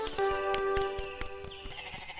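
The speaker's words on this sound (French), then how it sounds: "Tous les jours, Heidi et Pierre emmenaient les chèvres paître." Goats being taken to graze in the mountains bleat loudly and close by, a sustained wavering cry followed by shorter overlapping calls amid faint rustling.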